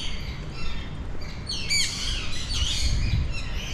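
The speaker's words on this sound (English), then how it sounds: "Somebody has a bunch of birds in there." Several caged birds chirp and tweet inside an apartment beside a busy Macau street, with bursts of bright, overlapping calls rising over steady outdoor background noise.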